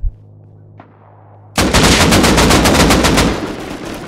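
Rapid automatic gunfire in the Rust Console Edition video game on PS5, a sudden loud sustained burst of fast shots after a brief quiet, dense and close.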